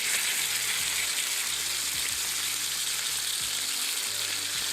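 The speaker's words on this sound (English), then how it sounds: "this is a pound of steak going on," A pound of thick New York strip steak sizzling in a hot pan, a steady dense crackling hiss throughout, close and loud, with no talking.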